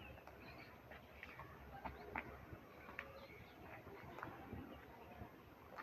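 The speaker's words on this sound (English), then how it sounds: "Listen to those birds." Faint birds chirp and call outdoors in a quiet residential neighborhood, scattered short notes over a soft background hum with no talking.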